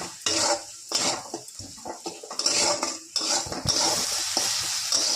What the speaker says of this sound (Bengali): দিয়ে ভালো মতো কষিয়ে নেব